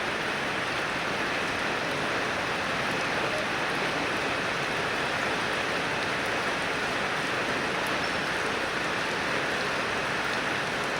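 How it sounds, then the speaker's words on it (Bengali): Rain pours steadily and evenly outside a madrasa, a dense, continuous hiss of drops on surfaces that holds at the same close, moderately loud level throughout, with no voices. "কিরকম বৃষ্টি।"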